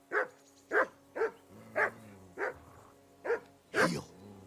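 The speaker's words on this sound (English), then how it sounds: "That dog of yours is barking like the devil." A dog in the medieval Kingdom Come Deliverance 2 video game barks repeatedly in an even rhythm, about eight single woofs, fairly close and alone against a quiet background.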